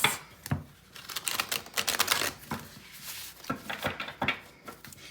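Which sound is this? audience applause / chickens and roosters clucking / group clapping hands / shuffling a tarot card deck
shuffling a tarot card deck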